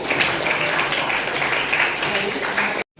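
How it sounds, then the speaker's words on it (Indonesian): Students in a classroom sociology lesson clap their hands together in a dense, steady burst lasting nearly three seconds, with voices mixed in, then it cuts off abruptly. "Tepuk tangan dulu untuk kita semua."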